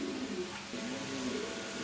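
A male pigeon cooing softly and low, repeating in gentle rolling phrases over a steady background hiss, fairly close and unbroken by speech.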